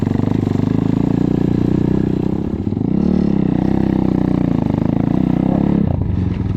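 A KAYA 512 motorcycle churns through a swamp, its engine droning loud and close with steady mid-pitched growl, a brief dip and rise in revs midway, then pulling hard again with clattering mechanical noise.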